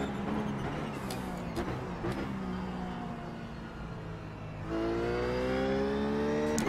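Ruf race car in iRacing pulling hard out of a corner at Zandvoort, its engine note climbing steadily through the revs, then shifting up to a louder, higher-pitched surge that keeps building to the end.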